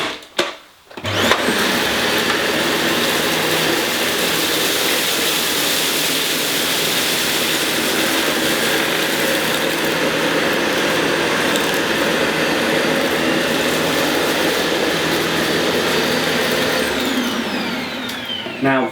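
A Dyson Light Ball vacuum cleaner runs on a hard floor with its brush bar spinning and suction on the middle setting, a loud, steady whooshing roar that starts after a brief click and holds throughout.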